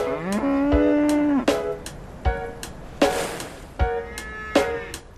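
Cow mooing, one long drawn-out moo followed by several shorter calls with sharp clicks between them, loud and close with no talking.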